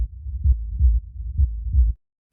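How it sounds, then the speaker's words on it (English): A looped sub-bass rumble sample for a techno track, pulsing in a steady rhythm of about five deep thumps over two seconds at an even pitch, heard alone and then cutting to silence. "So this here is our sub rumble."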